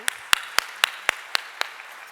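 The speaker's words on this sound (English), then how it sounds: "we can give all of these ladies a big round of applause for just being amazing brand founders" An audience claps for a group of women brand founders at a beauty business panel, a fairly sparse, evenly spaced run of sharp claps standing out over a quiet room.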